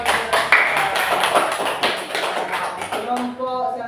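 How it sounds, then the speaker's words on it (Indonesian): Students in a classroom applauding a group that has just presented its discussion, a steady burst of many hands clapping at close range with a voice speaking over it. "Bagus, tepuk tangan."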